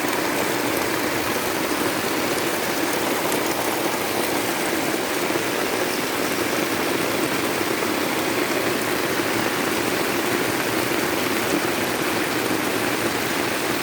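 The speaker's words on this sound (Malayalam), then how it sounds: "ഇപ്പം നല്ല ശക്തിയായി മഴ" Heavy rain pours steadily and loudly in a rubber-plantation area, a dense, unbroken hiss of water that keeps the same strength throughout, with no voices.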